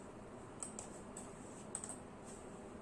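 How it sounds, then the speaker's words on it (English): Computer keyboard keys tapped to type a short word, ending with a press of the enter key; a handful of faint, sparse clicks over a quiet room hiss, with no talking. "I'm going to type in happy. I'm going to hit enter."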